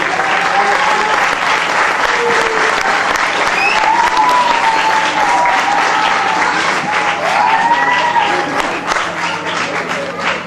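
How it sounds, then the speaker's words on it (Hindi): Loud, continuous applause fills a hall at an awards ceremony, with a dense crowd clapping steadily throughout and a few voices and whistles rising faintly above it. "जोरदार एक बार तालियां।"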